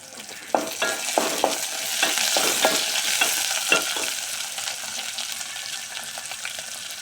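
Curry leaves fry in hot oil in a pan with a loud, dense sizzle and crackle, broken early on by a run of quick spatters and stirring clicks.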